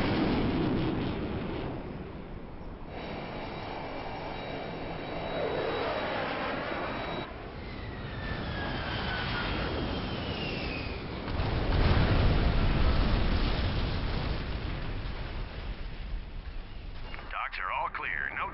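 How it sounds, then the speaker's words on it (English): An airstrike in Command & Conquer: Zero Hour: aircraft roar past with a sweeping whine, followed by a heavy, rumbling blast that swells midway, all under steady battlefield noise and radio chatter from voices talking throughout. "Launching airstrike."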